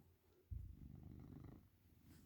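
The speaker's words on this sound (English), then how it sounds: "You're just gonna lay there and purr" A domestic cat purrs while being petted, a low rumbling, pulsing purr starting abruptly and holding steady for about a second before fading, very close and quiet, with no speech.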